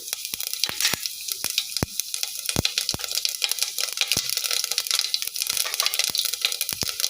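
Half a spoon of cumin seeds dropped into hot oil in a pan, crackling and popping in sharp, irregular bursts over a continuous sizzle.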